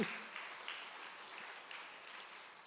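A church congregation applauds during a Sunday service, a soft, fairly distant spread of clapping that fades gradually without any voices over it.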